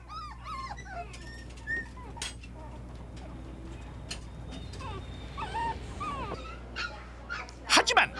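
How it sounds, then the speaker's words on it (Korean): Hundreds of puppies waiting in kennels give scattered yips, whimpers and short barks, some near and some farther off, over a steady background hum with voices present. "오늘도 애타게 주인을 기다리고 있는 수백 아니 수천 마리의 강아지들."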